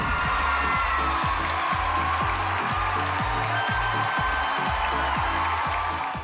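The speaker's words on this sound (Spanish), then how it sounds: "El cantante fue despedido con un minuto de aplausos." An audience at a Mexico City theatre applauds a singer after his final performance as José, with loud, continuous clapping and crowd noise over a low rhythmic musical pulse.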